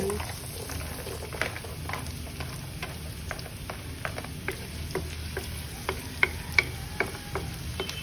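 Garlic and onion sautéing in a pan, a faint steady sizzle dotted with frequent small pops and spatter ticks, quiet and continuous, no voices.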